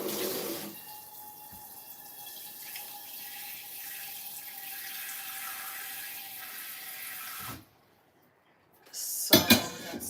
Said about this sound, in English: Oh, I can put water here to start with.